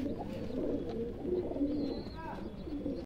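Pigeons of a high-flyer breed coo in a loose, continuous murmur at close range, with a brief chirp partway through and faint background noise but no talk.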